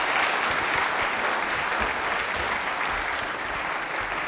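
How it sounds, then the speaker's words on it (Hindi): A studio audience on a general-knowledge quiz show breaks into loud, sustained applause, a thick continuous roar of many hands clapping at a constant level. "तालियां एक बार जोरदार होनी चाहिए प्लीज।"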